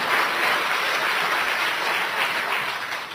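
Congregation clapping inside a church during a sermon, a dense, steady wash of applause that holds for the whole stretch and tapers slightly at the end, with no voices over it.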